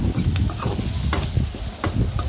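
Tomatoes going into browned onions in a pan for poha upma, with steady frying sizzle broken by a few sharp scrapes and stirring clatters, all close and fairly loud, with no talking.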